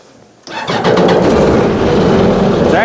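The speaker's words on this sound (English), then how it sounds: "go ahead and fire it up real quick" The engine of a mini jet boat starts up on its first run in the boat, a sudden cranking catch that settles into a loud, close, steady idle with a rough rumbling drone.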